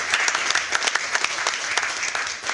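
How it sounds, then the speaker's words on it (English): At a county commission public meeting, a roomful of people breaks into dense, continuous applause that stays loud and steady throughout. "Give him a good applause in the County Commission."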